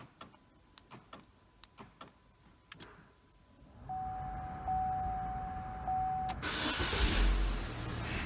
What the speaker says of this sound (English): Now you can also start the vehicle using 3-lock starting